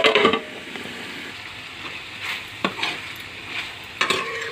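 Vegetables with salt and turmeric fry in a pan, stirred in a few short scraping strokes over a soft steady sizzle, with a couple of sharper utensil clicks.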